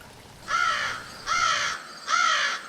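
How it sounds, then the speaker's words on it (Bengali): A jungle crow caws from a neem tree in a courtyard: three harsh, drawn-out caws at an even pace, moderately near over a faint steady background hiss. "তখন উঠোনের নিম গাছটার ডাল থেকে ঝড়ের শোষো আওয়াজ সত্ত্বেও স্পষ্ট শুনতে পেলাম দাঁড় কাকের ডাক"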